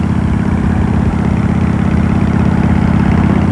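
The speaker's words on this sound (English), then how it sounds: "the V-twin engine." Harley-Davidson V-twin motorcycle engine idling, a loud, steady low rumble with an even throbbing pulse running throughout.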